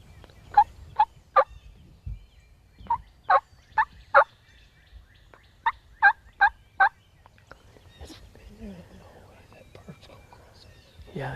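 A wild turkey gobbles across a river about 35 yards off, a dozen short, sharp bursts in quick clusters, with quiet whispered talk nearby.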